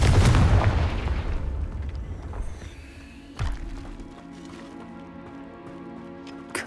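A Confringo fire spell bursts in the Hogwarts game with a loud blast up front that rumbles and fades, followed by a smaller thump and faint crackling debris.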